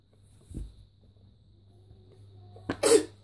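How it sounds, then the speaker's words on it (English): A single sharp sneeze bursts out near the end, loud and close, after a quieter earlier huff over a low steady hum. "I sneezed and farted at the same time."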